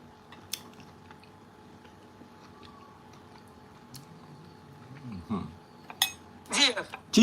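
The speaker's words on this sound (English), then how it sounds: "The vegetable is fresh and crunchy." Someone chews fresh, crunchy vegetables during a meal, with soft close crunching and mouth sounds plus clinks of cutlery on a plate, rising into louder bites toward the end.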